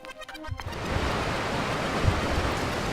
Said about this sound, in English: such as the sound of this waterfall